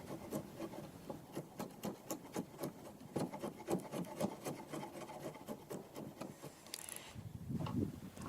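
An old, razor-sharp chisel, probably Sheffield steel, is struck with a mallet to scrape dried glue off wood, giving a quick, steady series of rasping scrapes up close, ending in a rougher rubbing noise.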